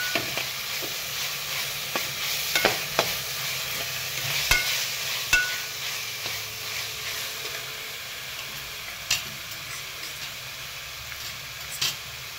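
Mushroom pulao masala with salt is sautéed in a pan, giving a continuous soft sizzle broken by sharp scraping clicks of a spoon stirring, close by and with no voices.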